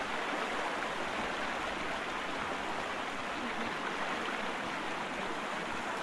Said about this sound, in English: It sounds kind of like a strong current.